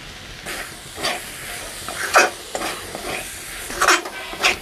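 Coriander leaves being stirred by hand into a lote fish chop mixture, giving soft, irregular squishing and rustling strokes, close and fairly quiet.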